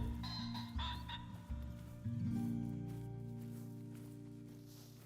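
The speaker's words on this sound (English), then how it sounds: "I heard the rooster call, but I don't see him." A rooster calls in a hunting video game, a rough crowing that blends into steady low ambient game sound, fairly distant and not especially loud.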